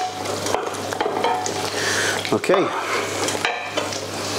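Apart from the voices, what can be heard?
stirring tomato passata sauce in a pan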